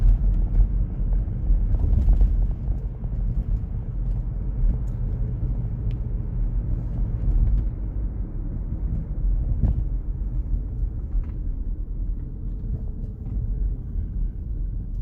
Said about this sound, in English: Is the road noise really that loud?